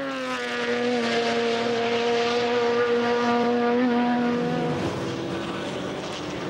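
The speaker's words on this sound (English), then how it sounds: "And just as last year, Team Falcon competed in a Nissan Z33" A Team Falcon Nissan Z33 race car runs at the Nürburgring 24-hour race, its engine droning loud and steady with a rising pitch before a brief dip and shift near the end.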